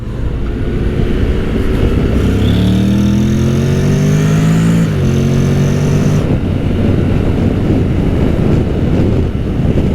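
Honda Forza 750 scooter accelerating on an open road, a loud, close engine tone that rises in pitch, shifts, then rises again over steady wind rush, with no talking.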